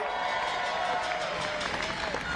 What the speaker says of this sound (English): Let me also give a big round of applause and welcome to our new White House interns